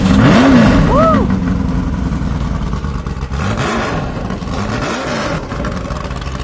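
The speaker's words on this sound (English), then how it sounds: "The engines are prepared for racing." A vintage racing car engine, prepared for the track, revs hard close by at a La Jolla concours, its pitch sweeping up and falling back in repeated blips, with people talking over it.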